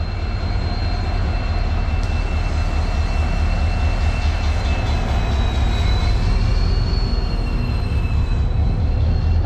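A passenger train locomotive rolls into a station, a steady loud rumble of wheels on rails with high metallic squeals running through it throughout, with no voices.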